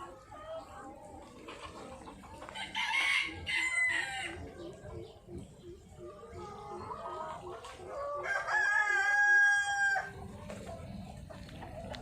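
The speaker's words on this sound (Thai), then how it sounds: "นี่ไก่ไข่ไฮบริด" Hybrid laying hens on a farm cafe in the rice fields of Pathum Thani, Thailand, with a rooster crowing twice over steady clucking and general fowl chatter, moderately near.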